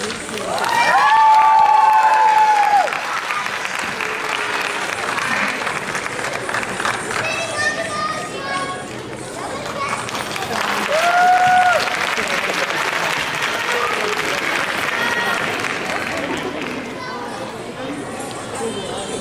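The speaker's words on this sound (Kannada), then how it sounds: "ಚಪ್ಪಾಳೆ ಮಕ್ಕಳಿಗೆ" A crowd claps loudly and steadily for children who have just performed a folk song and dance at a Yugadi celebration, and the applause carries throughout with some cheering and a voice speaking over it.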